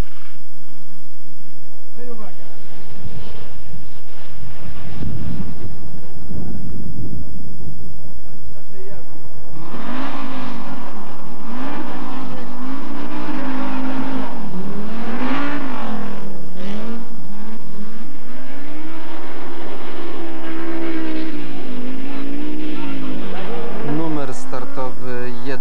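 A Renault 5 GT rally car at the 1991 Barbórka Rally revs and drives past, its engine note rising and falling in wavering harmonic sweeps while a commentator talks over it.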